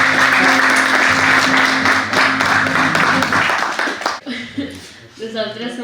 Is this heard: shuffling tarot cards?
no